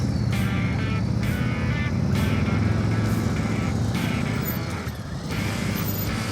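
A motorcycle engine at a riding practice session drones loudly and steadily as the throttle is opened, with a brief dip in volume near the end.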